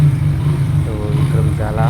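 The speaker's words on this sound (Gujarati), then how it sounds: "તો હવે અમે પણ બાઇક લઈને નીકળશું" A motorcycle engine runs close by, a steady mid-pitched hum with a slight rise in revs as the bike pulls away; voices can be heard briefly over it.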